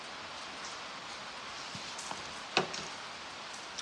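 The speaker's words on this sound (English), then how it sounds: "Sounds like we're getting a little bit of rain outside." Rain falls outside a garage, a soft steady hiss of drops with a few brief louder taps and knocks, fairly distant and alone.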